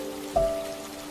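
Steady rain falling, a soft even hiss throughout with a brief low thud partway through and a faint sustained tone, no voices.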